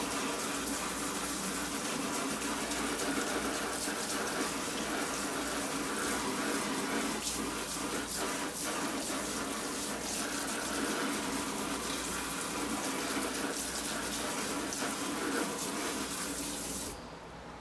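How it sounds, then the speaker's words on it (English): Tap water runs steadily into a sink over a hip pack, a loud continuous splashing gush for about seventeen seconds that cuts off abruptly near the end. "Now, put it in the sink. And I'm going to bring the rain."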